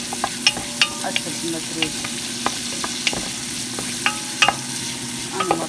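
Onion rings frying in a pan for maqluba, a steady close sizzle broken by light clicks of stirring, with a brief voice heard once.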